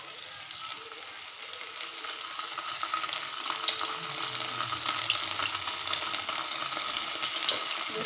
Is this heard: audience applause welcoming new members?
no